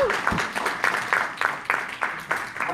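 An audience claps at a real estate talk, a burst of applause with repeated sharp hand claps in a steady uneven rhythm, fairly close and moderately loud.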